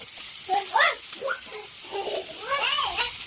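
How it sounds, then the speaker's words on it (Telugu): Onion and tomato frying in about two tablespoons of oil for a capsicum curry give a steady, close sizzling hiss that runs throughout, with voices talking over it. "మిక్సీ చేసుకోవడానికి ఆనియన్ టమాటా ఇలా ఫ్రై చేసుకుంటున్నాం"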